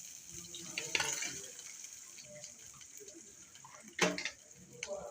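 Onions go into hot oil already crackling with mustard seeds, cinnamon, cloves and fennel for a kurma. A faint, steady sizzle comes through with a few louder spatters and stirring clatters, and no talk.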